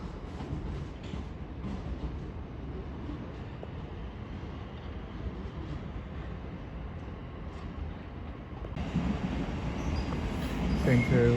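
A terminating Southern train arrives at a London terminus, a low rolling rumble that grows louder toward the end as it draws in, with faint station noise behind.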